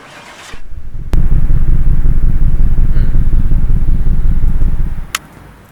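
A car engine in Car Mechanic Simulator 2018 cranks and fires into a loud, steady low rumbling idle for about four seconds before cutting off abruptly, close and alone.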